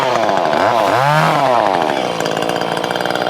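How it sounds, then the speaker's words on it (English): A chainsaw cutting olive tree branches whines loud and close, its engine pitch swooping up and down as it bites into the wood, then settling into a steady high drone. "Alexandre's got the chainsaw, making little cuts"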